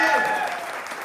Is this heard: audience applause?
yes